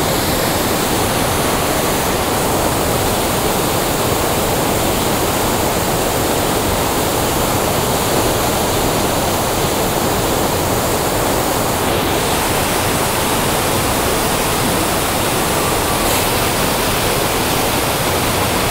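Rushing water and spray roar steadily and loudly at close range along the Oirase mountain stream, a dense unbroken wash of noise that lasts throughout with no voices.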